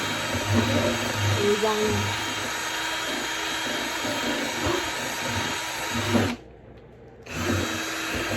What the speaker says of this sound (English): I'm just going to mix some silicone